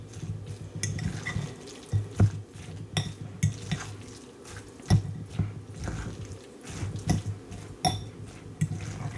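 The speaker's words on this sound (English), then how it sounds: "Just giving it a few more little minces with this fork" Cooked potato topping for a leftover beef stew casserole, mashed with a fork in a dish: irregular clinks and scrapes of metal on the dish over soft, squishy mashing, with no talking.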